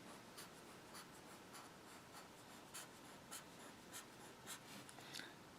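A pen writes out a chemical structure on paper, making close, quiet scratching strokes with short taps that repeat at an irregular pace.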